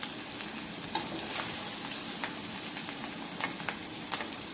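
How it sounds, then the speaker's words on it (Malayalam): Mushrooms frying in a pan for a biryani, giving a steady close sizzle with occasional light stirring clicks and no talking. "ബാക്കിയും കൂടെ ഇതുപോലെ തന്നെ ഫ്രൈ ആക്കി എടുക്കുന്നുണ്ട്."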